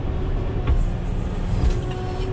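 Caterpillar 120K motor grader pulling away during road-opening work, a steady low diesel engine rumble with a couple of brief louder surges, no talking.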